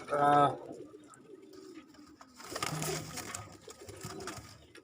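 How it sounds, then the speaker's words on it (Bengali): Pigeons coo in a loft with nesting pairs and eggs, a clear near coo at the opening followed by softer rustling and bird sounds while someone speaks over them. "আর এটা হচ্ছে বোনালো কবুতর। বোনালো কবুতর এখানে জোড়া নিয়ে তারপরে ডিম পারছে এখানে।"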